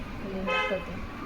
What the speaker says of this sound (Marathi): बाहेर खूपच गाड्यांचा आवाज येतोय मध्ये मध्ये